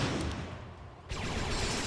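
Blaster shots fire in a Ratchet & Clank game, a dense run of loud crackling bursts that dips briefly and then picks up again, with no talk over them.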